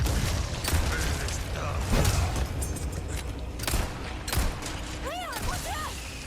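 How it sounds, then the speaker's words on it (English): Grenade blast in Resident Evil 4, heard as dull booms and thuds among clattering game effects and whooshes, with a few rising tonal chirps near the end. "So I throw a grenade."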